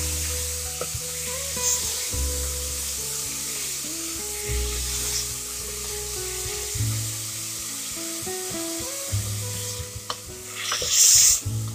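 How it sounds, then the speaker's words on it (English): Green chilies and onions fry in a pan with a steady crackling sizzle, broken by intermittent stirring clatter and a low background tone, no talking. "2 green chilies. And we have to fry this."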